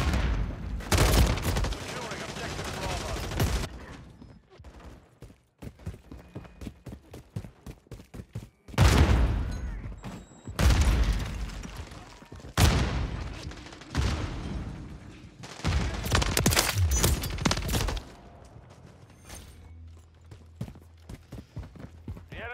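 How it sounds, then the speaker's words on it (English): Rapid automatic gunfire bursts and single shots in a Call of Duty: Modern Warfare III multiplayer match, loud and close in repeated volleys separated by brief lulls, with game radio voices talking over the action. "Contact. Taking fire."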